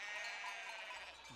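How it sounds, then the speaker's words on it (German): A sheep bleats once, faint and a little distant, near the end of a quiet stretch of outdoor background noise, from a flock kept for lamb meat on a Swiss winter pasture. "Michaels Schafe sind von verschiedenen Bauern aus der Region"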